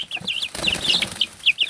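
Young chicks give a quick series of high, bright chirps with soft clucking beneath, close by and fairly quiet, over a short burst with no talking.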